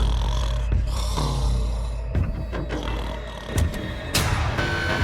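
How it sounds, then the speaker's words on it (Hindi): A man snores through the night in a prison cell, giving slow, rough, rumbling breaths that repeat every second or so, close and fairly quiet, with no talking. "वो स्टूपिड कॉप सारी रात खर्राटे मारता रहा।"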